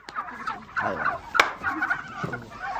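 A turkey gobbles repeatedly in short rattling bursts, fairly close and clear, with no talk over it; the bird is being handed over as a New Year's holiday turkey.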